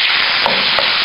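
Tomatoes frying in a pan with eggplant, a loud close sizzle with two quick stirring scrapes in the middle of a short burst.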